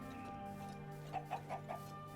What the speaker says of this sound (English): Looks like some of the chickens are still around their property, luckily.